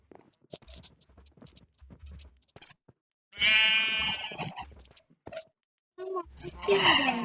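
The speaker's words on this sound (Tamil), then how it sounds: "குட்டி ஆடுங்க" Young goats bleat in several short, high cries, loud and close, separated by gaps of quieter shuffling and soft sounds.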